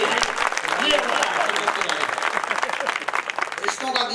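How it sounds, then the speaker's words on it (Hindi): Audience clapping fills a tent-like pavilion at a Hindi kavi sammelan poetry gathering in Shahjahanpur, steady dense applause throughout with crowd murmur and some voices mixed in. "पूरे पंडाल को ताली बजा करके कहना चाहिए हाँ गीत सुनाइए।"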